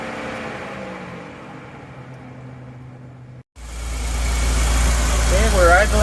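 A GMC motorhome's Oldsmobile 455 V8 with electronic fuel injection cranks and catches after a quiet stretch, then settles into a loud, steady deep rumbling idle, with a voice heard faintly before it starts.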